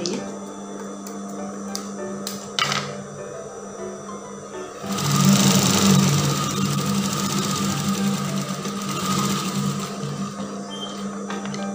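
A sewing machine stitches fabric for a side pocket. Light mechanical clicks and taps come first, then the machine starts up and runs as a steady, close whirring hum for the rest of the time.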